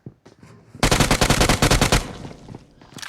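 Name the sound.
gunfire in video game PUBG Mobile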